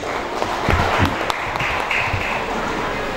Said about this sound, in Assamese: আপোনালোকৰ পৰা এজনী অভিনন্দনৰ হাত চাপৰি